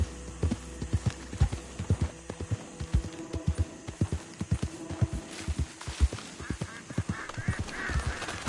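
A horse gallops in the video game Red Dead Redemption 2, giving an uneven run of thudding hoofbeats, close and rhythmic, with faint creaks and snorts mixed in and a rising noise near the end.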